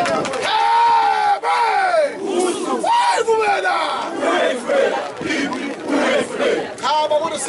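At a wedding in KwaZulu-Natal, a large crowd shouts and ululates in loud, rising waves of cheering throughout, with voices calling out over the din.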